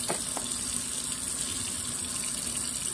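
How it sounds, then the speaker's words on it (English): Water pours steadily into a container to fill it before it is hung outside, a continuous close splashing and gushing like a running tap, with no voices. "That will really get it going when the water's added in there"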